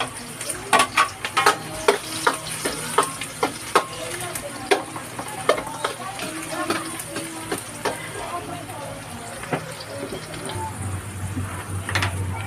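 Garlic, onion and ginger sautéing together in hot oil for Filipino lugaw, a steady low sizzle broken by repeated clanks of a utensil stirring the pan, with someone talking over it.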